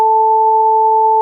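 Two steady pure sine tones, one at 880 Hz, sounding together as a clean continuous electronic hum, loud and unchanging for just over a second with no voices.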